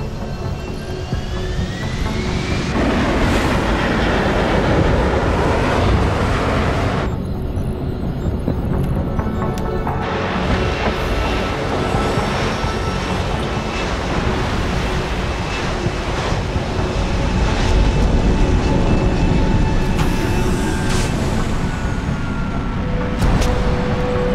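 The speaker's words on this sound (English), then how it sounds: "Gentlemen, prepare for landing." An aircraft lands in the video game Deus Ex: Human Revolution, a loud, continuous jet engine roar mixed with rushing wind that runs for the whole stretch, with shifting tones and occasional swells.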